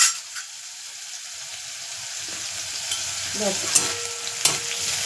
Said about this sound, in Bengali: একটু ভালো করে ভেজে নেব।